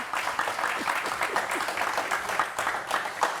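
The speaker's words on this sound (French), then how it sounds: "Applaudissez." Audience applause at a French televised match debrief show, a dense patter of clapping that runs evenly for a few seconds with faint crowd noise.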